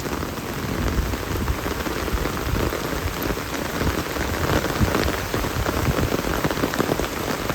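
Heavy rainy-season rain in rural Bangladesh pours down on surfaces, a dense, even, hissing patter that holds steady throughout with no voices.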